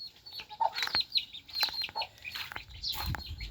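Several hens cluck and chatter close by, with brief wing flapping and scattered rustling between the calls.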